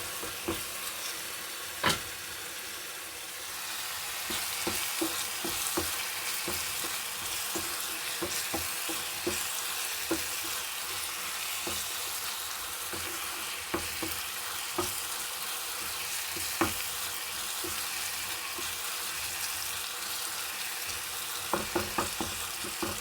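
Eggs sprinkled with red pepper fry in a pan with a continuous bright sizzle, broken by occasional light clicks and scrapes of stirring, with no voices heard.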